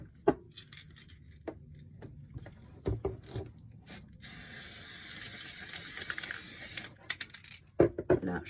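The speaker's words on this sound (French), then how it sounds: "je vais faire avec la colle en spray" Spray adhesive from an aerosol can, used for a glitter bottle craft, gives one steady hiss of about three seconds, surrounded by quiet handling clicks and knocks.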